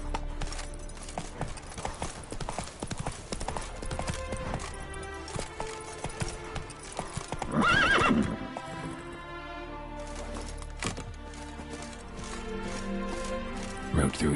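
In The Witcher 3: Wild Hunt, the horse Roach gallops with rapid, continuous hoofbeats. A whinny rises midway, with game music and effects mixed underneath.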